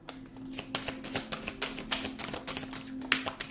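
Tarot cards riffle and flick rapidly in a continuous shuffling patter, close and crisp, with a faint steady hum underneath.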